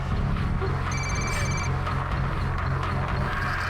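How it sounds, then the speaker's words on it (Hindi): A telephone rings with an incoming call, a steady electronic ring tone heard mid-clip over a dense, constant background of music and ambience in a crime drama scene. "फिर इसी नंबर से फ़ोन कॉल भी आया"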